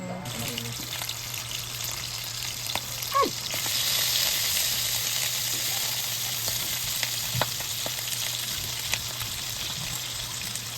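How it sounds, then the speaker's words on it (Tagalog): Continuous sizzling of longganisa, chorizo and hotdogs frying in a pan, a steady crackling hiss with occasional pops and clinks, fairly close and loud. "diretso na po tayo mag-prito ng longganisa. Ay, chorizo at hotdog."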